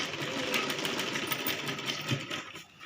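A sewing machine stitches the lining of a child's lehenga skirt in a steady, close, rapid whirring chatter that runs continuously, then slows and fades at the end.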